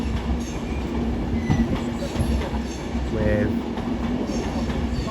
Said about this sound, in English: incoming will be a terminating Avanti West Coast service from Manchester Piccadilly in the form of